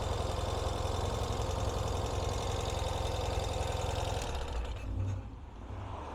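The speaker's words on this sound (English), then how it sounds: "all we have to do is hit the starter. Starts right up, no chokes or anything to worry about." A 2022 Ural Gear Up Taiga motorcycle engine starts and settles into a steady, rough idle, close and continuous, with a slight dip in its running near the end.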